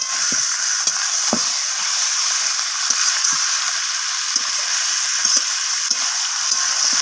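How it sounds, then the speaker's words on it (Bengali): Chicken fries with onions in a pan, giving a steady bright sizzle close by, broken by light clicks and scrapes from stirring, with no talking. "আমি পেঁয়াজের সাথে চিকেনটাকে নাড়াচাড়া করে এইভাবে ভেজে নিচ্ছি চিকেনটাকে"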